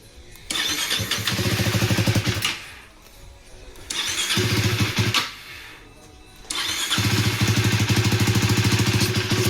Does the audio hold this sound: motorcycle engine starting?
yes